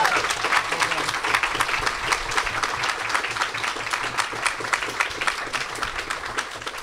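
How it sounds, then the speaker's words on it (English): A live crowd claps loudly and continuously at the Bugglebots 2019 robot combat grand final, with dense, close applause sustained for the whole stretch. "Well, that's worthy of a round of applause."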